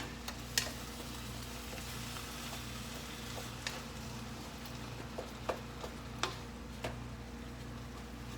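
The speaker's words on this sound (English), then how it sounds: "I'm browning my ground turkey." Ground turkey browns in a pan over medium heat, giving a steady low sizzle with scattered clicks and taps of a spoon scraping and stirring, close and fairly quiet, with no talking.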